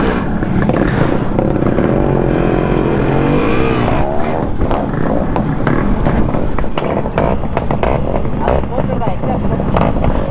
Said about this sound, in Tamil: நம்ம சங்கர் ப்ரோ வண்டி ஒரு ட்ரையல் ரைட் பார்த்துருவோம்